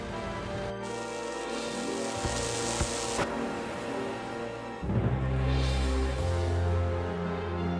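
Storm rain pours steadily as a fierce sea storm sound effect near a lighthouse, a hissing wash of drops layered under music and growing heavier and louder in the second half.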